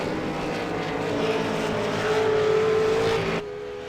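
An iRacing V8 Supercar engine drones steadily in a racing video game, a sustained tone rising slightly in pitch before cutting to a quieter, lower note near the end, with no voices.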